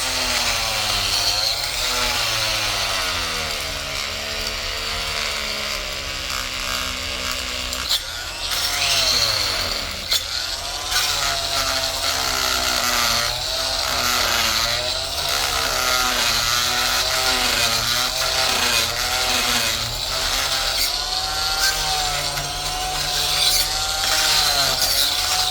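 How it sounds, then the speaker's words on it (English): A corded oscillating multi-tool scrapes cement and rust off metal tools, making a loud, continuous buzzing grind up close with a shifting pitch and a brief pause partway through, and nobody speaks. "I'm gonna use an multi-oscillated tool. I have this corded one."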